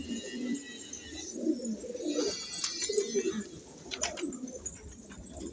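Male pigeons in a flock of about seventy coo in low, repeated throaty rolls nearby, with occasional wing flaps and sharper clicks breaking through the soft, layered cooing.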